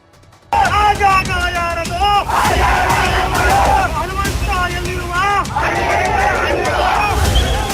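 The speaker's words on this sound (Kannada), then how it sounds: "ಎಲ್ಲೆಲ್ಲೂ ಜೈ ಶ್ರೀರಾಮ್ ಅನ್ನೋ ಹರ್ಷೋದ್ಗಾರ" A large crowd shouts and chants together in repeated rising cries at a political gathering over Karnataka's chief minister seat, loud and dense from start to finish after a brief quiet opening.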